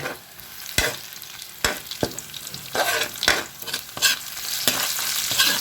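Chicken adobo sizzles in a pan with bay leaves, whole peppercorns and a chicken cube, while a spoon scrapes and clanks against the pan in irregular strokes over a steady frying hiss.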